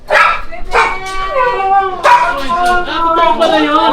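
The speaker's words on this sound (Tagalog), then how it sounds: "Yung maingay yung husky." A noisy husky yips, whines and barks in quick, close, loud bursts, its pitched howling yelps rising and falling continuously.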